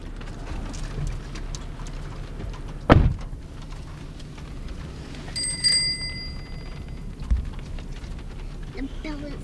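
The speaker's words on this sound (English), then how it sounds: "The bell is so cool." A small bell, much like a bicycle bell, rings once sharply and then gives a few ringing tones later, set against steady rain and a soft background hum.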